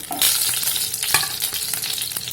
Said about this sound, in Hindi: देखिए बैगन अब फ्राई हो गई है